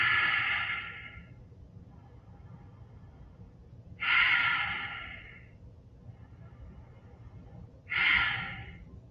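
Slow yoga breathing exercise with three strong, close breaths spaced about four seconds apart, each a hissing rush of air that fades into quiet between them.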